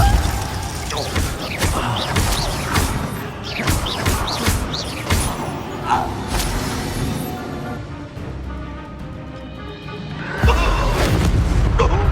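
Spell effects from Hogwarts Legacy, the video game: Confringo, Glacius and Depulsor cast in quick succession, giving loud booms, crashes and thuds over busy game sound, with a heavy impact near the end.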